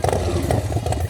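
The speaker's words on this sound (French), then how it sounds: "Et dès que tu touches les gaz, tu sens que le moteur, wow, c'est une dinguerie." A custom-built motorcycle engine growls as the throttle opens, giving a loud, close, throbbing roar that pulses unevenly for about a second, with no talk.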